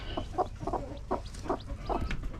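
Soft, muffled chirps and clucks repeat in a quick uneven rhythm, faint and close, like a chick peeping beneath a settled hen.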